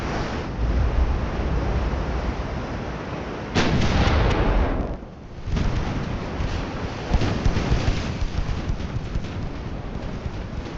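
Heavy battleship gunfire in the naval warfare game Ultimate Admiral: Dreadnoughts, set in a Spanish-American War campaign, sounds as a continuous loud broadband rumble of booming salvos with a sharp blast near the middle, over a churning sea-like roar.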